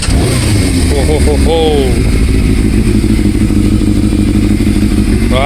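A Yamaha Thundercat 600R motorcycle engine fires up and revs hard close by. Loud, rising and falling revs come in quick bursts, then settle into a steady, throbbing idle while a man exclaims over it.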